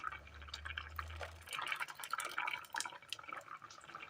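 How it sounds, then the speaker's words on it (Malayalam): Water is poured from a grinder jar into a simmering Kerala coconut curry, giving faint splashing and dripping sounds under a low hum that stops partway through. "ജാറിലേക്ക് ഒരല്പം വെള്ളം ഒഴിച്ചു കൊടുത്ത് അതുകൂടി ഒഴിച്ചു കൊടുക്കാം"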